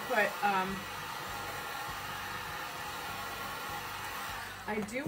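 Hair dryer blowing steadily up close to dry fabric paint on stenciled jeans, a constant airy whir that runs nearly the whole time with brief handling noises at the start and end.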